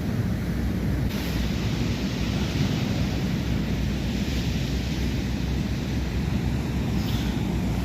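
Rough sea waves at Varkala beach under a threatening rain sky, a constant loud roar of surf mixed with wind buffeting the microphone, with no voices.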